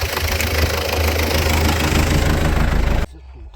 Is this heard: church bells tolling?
no